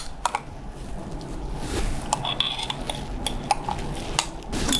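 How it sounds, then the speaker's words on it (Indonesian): Chicken and spice paste being stirred in a pan for ayam kalasan, with clinking utensil taps and scrapes against the metal over a low steady background. "Jadi diaduk-aduk ya, sekarang kasih bumbu."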